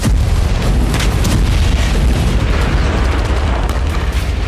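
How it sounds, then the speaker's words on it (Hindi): A thermobaric bomb detonating in the Torskyi ledge area of Ukraine, heard as a sustained, loud, rumbling roar of blast and debris with heavy low-end booming throughout, no voices present. "यूक्रेन के टॉर्स्की लेज इलाके में थर्मोबैरिक धमाके से भारी तबाही हुई।"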